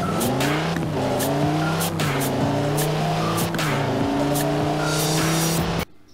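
A SUV driven hard in the racing video game Forza Horizon 4, its engine revving steadily through rising gear changes with squealing tires, loud and continuous before cutting off abruptly near the end.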